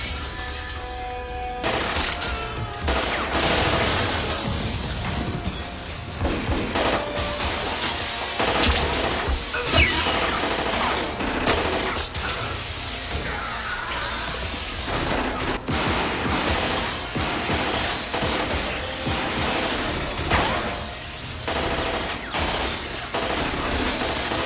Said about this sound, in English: All the guys going through glass.